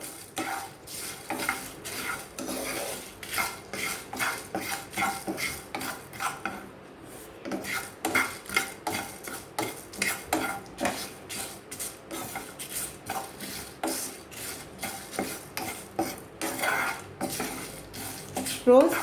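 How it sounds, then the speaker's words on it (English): Three Byadgi red chillies dry roasting in a pan over a low flame: a spoon or spatula stirs and scrapes against the metal in a brisk, repeated rhythm, with a faint sizzle and clinking between strokes. "red chilli, this is Bengi chilli that I am using, 3 pieces, and dry roast this"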